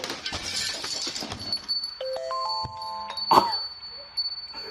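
A short electronic chime with steady tones, heard over a background of rumbling road noise and a sharp clink.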